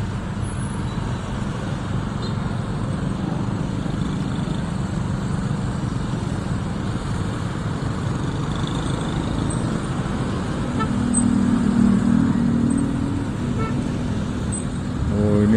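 Dense traffic-jam noise on a busy Pekanbaru street during Ramadan evening, a constant low rumble of idling cars and motorcycles with occasional horn toots, swelling slightly louder near the end.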